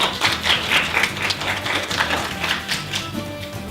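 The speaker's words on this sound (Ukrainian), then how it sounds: "Привітаємо клієнта оплесками" Audience applause greets a prize winner at a customer loyalty promotion draw: dense, steady clapping from a crowd, fairly close and continuous for the whole stretch with no voices on top.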